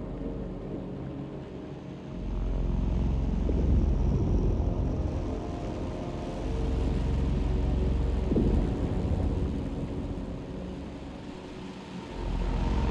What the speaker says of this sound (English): Okay, I definitely heard a helicopter.